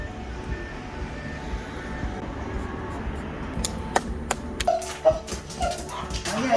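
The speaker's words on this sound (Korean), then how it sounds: "외부인이나 벨소리 하면 반려견이 이렇게 짖고 흥분합니까?" An excitable dog barks and yips in quick bursts inside a home, building in intensity toward the end over a low background bustle.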